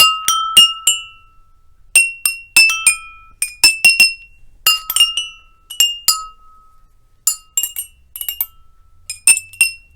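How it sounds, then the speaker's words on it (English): Glasses of different types and sizes holding water are struck in quick clinking runs, each ringing at its own pitch, bright close taps in bursts and pauses with no voices. "glasses of different types and sizes would have different pitches, and also the water will affect the sound of the glass"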